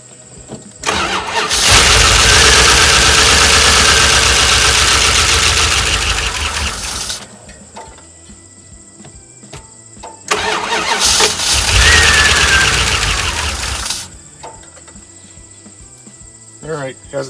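A 1988 Ram truck engine cranks over on gasoline primed with a little oil, with two long loud cranking bursts separated by a pause and a steady insect-like chirp in the background.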